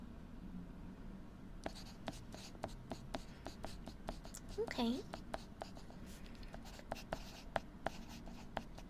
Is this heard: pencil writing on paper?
yes